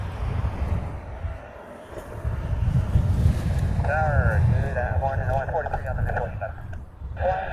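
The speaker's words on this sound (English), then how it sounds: "This wind is getting worse as the day goes by." Strong wind buffeting the microphone at Honolulu airport, a loud, continuous low roar with gusts, a voice speaking briefly over it.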